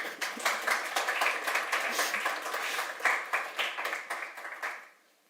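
A meetup crowd at a React Native community event applauds a presentation, steady clapping from many hands that carries on evenly and then fades out quickly near the end.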